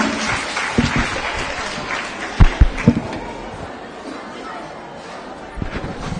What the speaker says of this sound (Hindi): श्रीमती शीला मंडल जी को, और चाहूंगी कि तालियों की गड़गड़ाहट से हम इस नारी शक्ति का अभिवादन करें